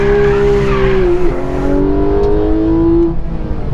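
A Porsche 911 GT3 drives on a race track, its engine loud and close with a sustained, rising and falling tone as it revs, shifts and briefly drops back, heard alone.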